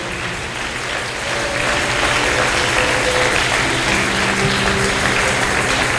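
A church congregation at a revival service applauds loudly and steadily, a dense wash of clapping that swells after the first second and holds at full strength to the end.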